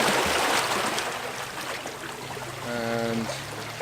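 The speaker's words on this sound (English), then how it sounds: "just trying to catch those waves just right" Sea waves washing and trickling around rocks by a pier at sunset, a soft steady wash of water close by, fairly quiet, with a faint tonal hum partway through.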